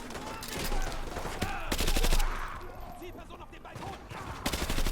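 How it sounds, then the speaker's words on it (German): Call of Duty Modern Warfare 2 Remastered gameplay with bursts of automatic gunfire and single shots cracking through, players talking in between. "wer hat jetzt einen Blank geschossen?"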